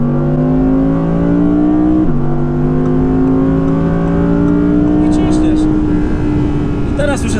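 An Audi R8 Green Hell Edition with a 620 hp 5.2-litre V10 roars close and loud, its revs climbing, then jumping sharply on a paddle-shift downshift before pulling steadily upward again, with a few brief clicks near the end.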